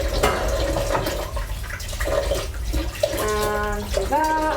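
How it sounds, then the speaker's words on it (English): Tap water runs steadily into a kitchen sink while a whisk is rinsed after cooking a roast dinner, a continuous splashing hiss with brief clinks and a rising whistle as the flow changes near the end. "Wash this whisk."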